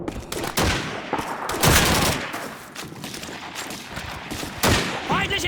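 Rapid bursts of rifle and machine-gun fire in the World War II shooter Call of Duty 2, loud overlapping shots with sharp cracks and echoing reports, punctuated by several heavier blasts.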